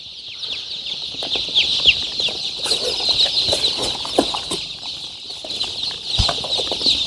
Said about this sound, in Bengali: বিভিন্ন কালার দেশি মুরগির বাচ্চার মতো পুরা দেখছো